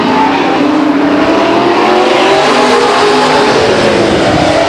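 Grand American Modified race cars roar around the Stockton 99 Speedway oval, a dense, loud, continuous engine howl with no break across the whole stretch.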